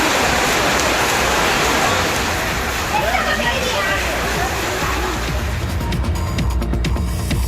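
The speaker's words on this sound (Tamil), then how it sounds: "மாலை நேரத்தில் மேகம் சூழ்ந்து மிதமான மழை பெய்ததால் பொதுமக்கள் மகிழ்ச்சி அடைந்தனர்" Moderate evening rain falls in Kovilpatti as a continuous broadband hiss and patter, with a voice speaking over the steady downpour.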